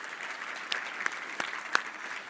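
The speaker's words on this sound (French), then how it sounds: "On peut applaudir l'église de Jésus" A church congregation applauds during a French-language sermon, producing a steady wash of many hands clapping at a moderate distance with a few sharper claps standing out, and no talking over it.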